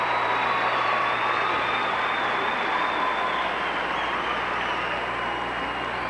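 A large arena crowd at the 1988 Calgary Winter Olympics cheers for a figure skater in the men's short program, a steady, dense roar of applause and cheering that holds at full level throughout.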